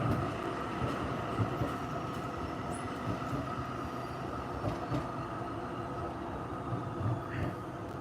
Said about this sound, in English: Notice the new trams running on Route 58.